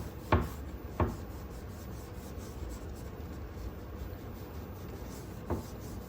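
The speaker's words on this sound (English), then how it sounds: "the more I just bear down into it and buff it out, the better it looks" Finish is buffed into a wooden kitchen cabinet by hand. A steady, close rubbing rasp runs throughout, broken by a few sharp knocks near the start and one more later.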